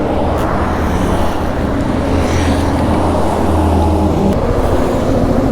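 Constant low rumble and wind roar of a BMW G310 GS motorcycle being ridden on the road, loud and steady with an even engine drone throughout.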